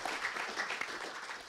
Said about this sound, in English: I don't know if you want to give a clap to what has just now been said